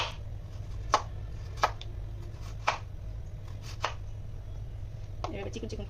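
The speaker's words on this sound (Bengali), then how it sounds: "এভাবে চিকন চিকন করে কেটে নিব।" Peeled potatoes are sliced thin with a knife on a board, a series of crisp, sharp chops spaced about a second apart, close and fairly quiet, with a brief burst of quicker cuts near the end over a low background hum.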